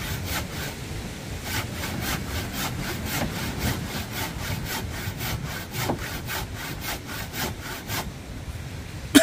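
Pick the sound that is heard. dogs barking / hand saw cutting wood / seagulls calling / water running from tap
hand saw cutting wood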